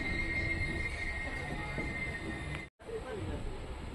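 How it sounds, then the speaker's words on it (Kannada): Dadar to Tirunelveli express train crossing on the adjacent track, heard from inside another train as a loud steady rumble and rattle with a faint high squeal, broken by a momentary dropout. "ಯಾವುದಿದು ದಾದರಿಂದ ತಿರುವನಹಳ್ಳಿಗೆ ಹೋಗೋ ಟ್ರೈನ್ ಬರ್ತಿದೆ"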